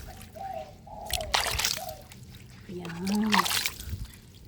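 Water splashes and trickles while a dog's house is washed at home, in uneven bursts close to the microphone, with someone talking over it.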